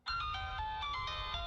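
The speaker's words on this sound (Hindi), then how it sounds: "फोन उठाओ।" A phone ringtone plays a short bright melodic tune, close and steady for a second and a half, alone over a faint low hum.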